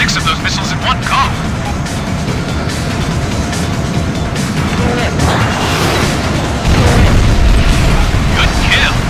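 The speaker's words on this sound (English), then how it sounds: "They fired 6 of those missiles in one go." Missiles launch and detonate in the Ace Combat Infinity flight game as a continuous roar of booms and blasts fills the scene, growing louder near the end, with radio chatter mixed in.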